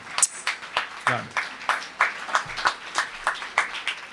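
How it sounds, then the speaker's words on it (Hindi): At a Hindi poetry recital, people clap to welcome the poet Ishan Dev, making fairly faint, separate claps in a steady, rhythmic beat rather than a full ovation. "एक बार जोरदार तालियां बजाकर स्वागत कीजिए ईशान देव"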